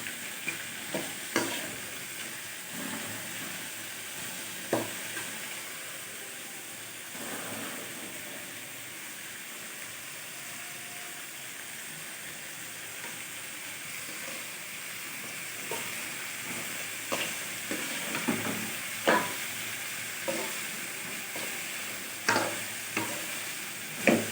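Ridge gourd sautéing in a pan for a Tamil chutney, giving a steady soft sizzle with frequent scraping stir strokes and sharper clicks of a spatula toward the end, with no talking.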